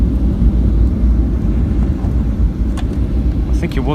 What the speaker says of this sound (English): And full reverse thrust.